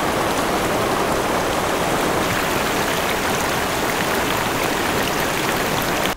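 A river rushes in a dense, loud, unbroken wash of water while a t-shirt is rinsed in it without soap, and the flow stays steady to the end.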